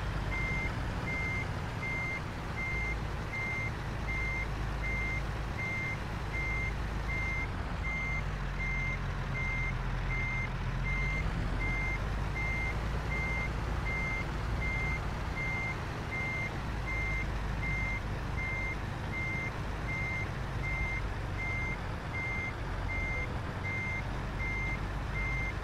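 Steady, evenly spaced reversing beeps from a truck in American Truck Simulator, repeating for the whole stretch over a constant low engine rumble.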